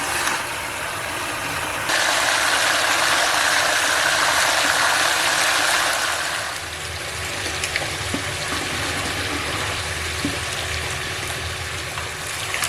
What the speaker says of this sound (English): my pump's running out of a gold pan to keep most of the silt out of it